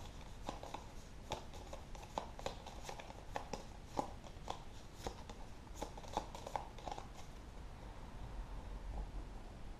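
Shuffling of a deck of cards during a Pathfinder Adventure Card Game session: a steady run of soft papery riffles and clicks, close and quiet, lasting throughout with no talk.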